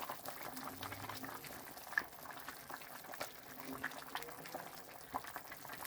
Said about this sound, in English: Look at that, simmering.